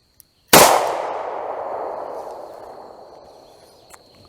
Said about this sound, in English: First up, the revolver.